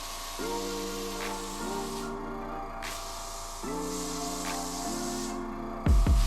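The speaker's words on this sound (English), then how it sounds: "I have the tip of my nozzle of my airbrush off as well" Airbrush spraying paint onto a t-shirt with the nozzle tip removed at about 45 PSI, a steady close hiss in bursts with short pauses between passes, a compressor hum beneath.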